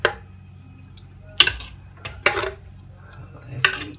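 A utensil scraping and knocking against a cooking pot while egusi soup is stirred, with several sharp clanks of spoon on metal spaced over a few seconds, fairly close and moderately loud, no talking.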